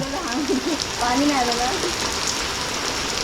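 Steady unseasonal rain patters down across the whole stretch in a Konkan village, while a voice talks briefly over it near the start.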